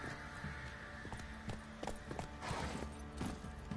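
Horse hooves clip-clop at a walking pace in The Witcher 3 video game, mixed with a steady bed of ambient game sound and background music. The hoofbeats are moderately close but fairly soft.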